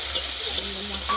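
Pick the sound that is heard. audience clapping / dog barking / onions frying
onions frying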